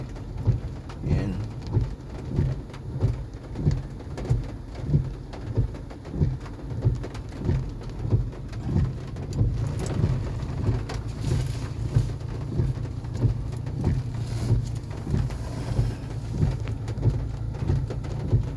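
Steady heavy typhoon rain pounds down on surfaces in Aurora, a dense continuous wash of sound close around, with a faint low rumble underneath.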